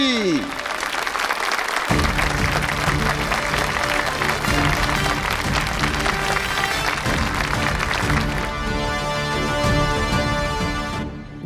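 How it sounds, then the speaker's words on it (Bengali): An audience claps loudly and steadily at a village festival contest for farmer husband-and-wife pairs. The dense applause fills the whole stretch, with music tones running underneath. "হাততালি"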